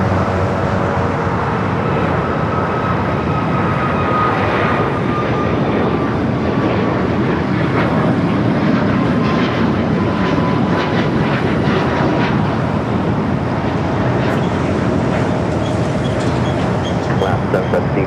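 A jet airliner rolls for takeoff on runway 25 Left at Los Angeles LAX, its engines roaring loud and steady throughout, with faint radio chatter beneath.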